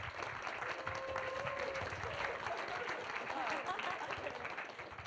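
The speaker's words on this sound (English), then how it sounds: "Nice applause." Audience applause at a small implant party in France, dense steady clapping from a modest crowd lasting the full stretch, with faint voices mixed in.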